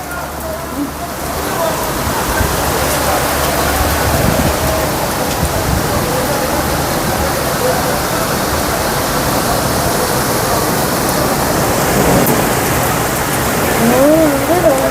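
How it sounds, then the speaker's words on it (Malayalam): Heavy rain pours in a loud, continuous roar close by during a lightning storm in Sharjah, UAE, with a brief voice toward the end. "ഭയങ്കര മഴ"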